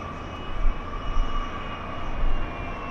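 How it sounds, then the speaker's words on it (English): A Boeing 787 Dreamliner jet at LAX makes a steady, distant roar and rumble with a faint whine over it, its low rumble swelling and fading and mixed with wind. "That's the Dreamliner."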